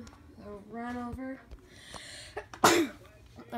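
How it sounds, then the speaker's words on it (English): A person sneezes once, sharp and close, after a stretch of quiet, child-like vocal sounds, with soft breathy noises trailing afterward. "Sorry, I've been sneezing a lot."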